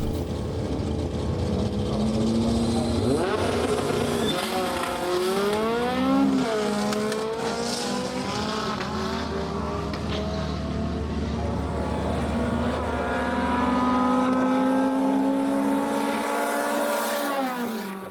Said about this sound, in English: The Civic nails the start and holds off the starlet.